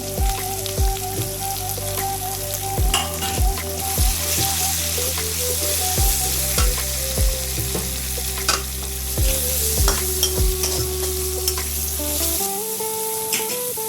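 Chopped onion and chili fry in a pan for a chira dish with a loud, continuous sizzle, broken by repeated scraping stirs, while steady background music plays underneath.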